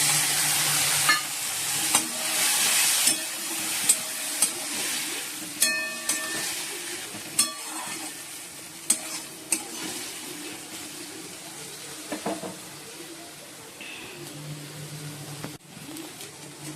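Okra and onion frying in a pan with a mustard-poppy seed paste, a steady sizzle with intermittent spoon taps and scrapes, at moderate volume and fading toward the end, with no voices.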